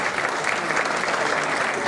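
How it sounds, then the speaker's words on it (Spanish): Steady applause from a crowd at a municipal anniversary celebration in Santiago, Nuevo León, dense continuous clapping that holds at an even level throughout. "Yo quiero darle un aplauso también, un reconocimiento"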